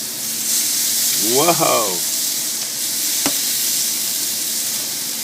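Tuna belly and pork belly sizzle steadily on a barbecue grill in Hawaiian Filipino style, a continuous frying hiss throughout, with a man's brief exclamation over it and a sharp click near the end.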